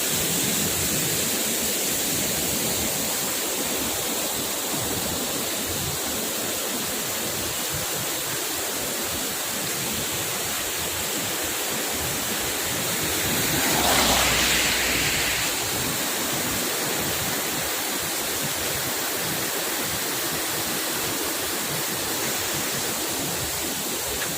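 Water rushes across a national highway near Valarakuthu after a landslide, a loud, steady roar of flowing water that swells briefly midway and then settles back to its even rush.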